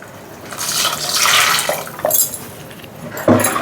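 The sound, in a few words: water being poured into a pot for sambar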